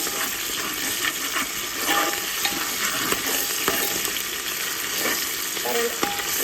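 Freshly harvested, moist onion frying in a pan for a chicken dish, with a steady, loud, close hiss and sizzle throughout and occasional faint clicks and scrapes of stirring.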